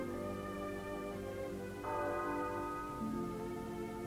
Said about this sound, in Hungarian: Az esti harangszó.